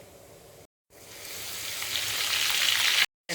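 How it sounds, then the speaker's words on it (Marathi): Cumin and asafoetida hit hot oil in a wok, bursting into a loud, close sizzle that swells steadily between short cuts of silence. "तेल गरम झालेलं आहे त्यामध्ये मी जिरं टाकू आता त्यामध्ये हिंग टाकते"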